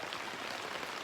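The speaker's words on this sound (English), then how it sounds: "so as you can hear, it's raining." Rain falls steadily during a concrete slab pour, as a soft, even hiss of drops spread across the full second with no break and no voices.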